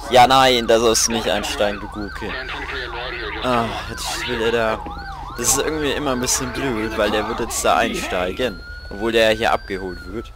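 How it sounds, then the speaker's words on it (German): A police car siren in the video game GTA V wails in loud rising and falling sweeps while someone talks over it almost throughout. "Die Sirene ist nur leicht nervig."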